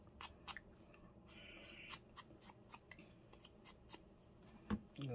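Scissors cut paper for an envelope journal insert, giving a series of sharp, quiet snips at irregular intervals, close and faint against a soft background.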